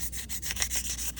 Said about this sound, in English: sanding over the top,